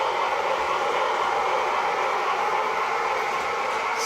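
A Union Pacific model train runs on a club layout, giving a steady, even whirring rumble with no breaks, fairly close and constant throughout.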